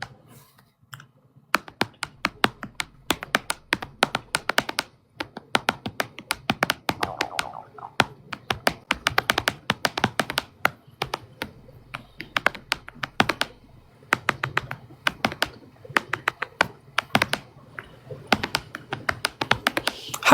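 Fast, continuous typing on a computer keyboard during a live stream, with dense clusters of close clicks broken by short pauses at a moderate level and no talking.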